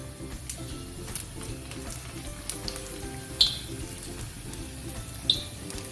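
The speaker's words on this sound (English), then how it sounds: "I'm going to deep fry them." Spring onion pancakes deep fry in hot oil, giving a continuous soft bubbling sizzle with a couple of brief sharp pops and clicks, close and moderate in level; no voices.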